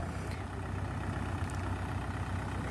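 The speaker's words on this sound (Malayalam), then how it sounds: "ട്രാക്ടർ കൊണ്ട് ഉഴുതുന്നത് കണ്ടു എന്ന്" A tractor ploughing a paddy field gives a steady, low engine drone that sounds fairly distant and quiet, running on without a break and with no voices.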